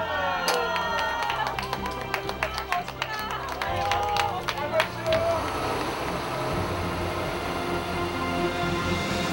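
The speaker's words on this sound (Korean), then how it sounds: "보람 있었던 시간을 정리하자니 박수와 함성이 절로 나옵니다" A group claps and cheers together as a hard five-day trip comes to an end, a burst of quick claps and shouts that settles into a busy crowd murmur, with voices throughout.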